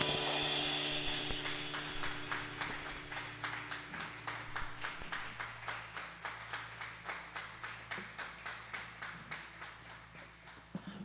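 A church congregation claps in unison to praise God, starting as a loud wash of applause that settles into a steady rhythmic beat of crisp claps, with a low sustained tone running beneath.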